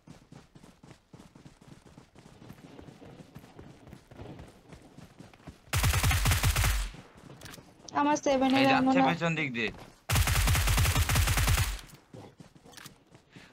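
Gunfire in PUBG Mobile, loud rapid bursts in three main volleys, one carrying a ringing metallic tail, with a player talking quietly in between.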